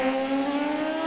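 A drag race car launches down a street-style drag strip at a World Cup import versus domestic qualifying session, its engine holding a loud, steady, high-revving drone close by.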